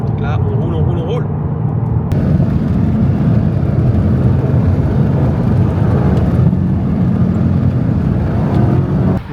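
A mix of American and German cars driving together on a cruise makes a loud, continuous road and engine rumble with wind roar, from a vehicle in motion, and voices talk over it.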